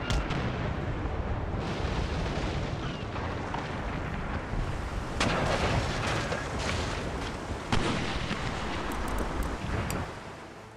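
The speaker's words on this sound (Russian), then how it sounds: "Стрельба шла исключительно по Томпсону." Naval cannon fire rolls through a sailing-ship battle in Empire: Total War, with dense booming volleys over a constant roar like wind and surf, plus a few sharper cracks standing out near the middle and end.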